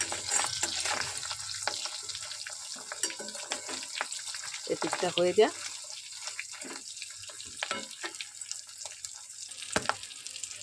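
Fish roe fries in a pan over a lowered gas flame, crackling with faint sizzles and scraping stirs, while someone talks quietly over the cooking sounds.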